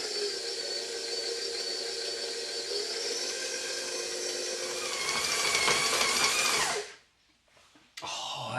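A stand mixer fitted with a paddle beats gluten-free cookie dough with a steady, loud motor whir for about seven seconds, then shuts off, followed by a short clatter.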